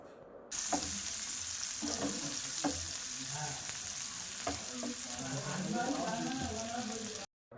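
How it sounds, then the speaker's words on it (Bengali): Loud, steady sizzling of onions frying in hot oil, with occasional stirring clatter, close up and continuous until an abrupt stop at the end. "ফ্র্যাং প্যানের মধ্যে দিয়ে দিলাম দিয়ে এবার আমি ভাজা করে নেব পেঁয়াজগুলো"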